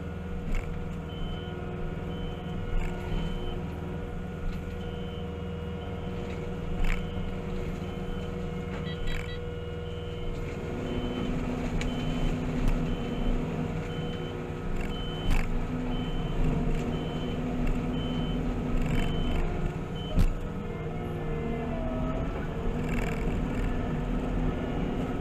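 A shredding machine grinds in a steady loud drone while a forgotten can of brake cleaner clonks around inside it, giving occasional sharp knocks over the running machine.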